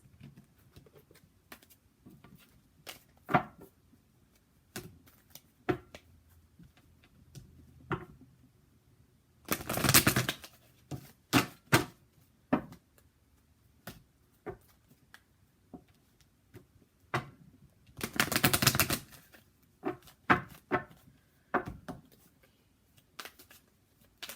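A deck of Energy Oracle cards being handled and shuffled: soft taps and rustles scattered throughout, broken by two longer, denser riffling bursts, all quiet and close.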